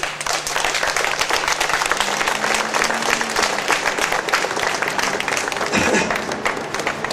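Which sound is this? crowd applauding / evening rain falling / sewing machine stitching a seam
crowd applauding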